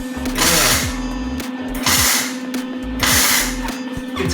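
Welding on a homemade offset barrel smoker, heard as three long crackling, sizzling bursts with a steady electrical hum underneath and short pauses between passes.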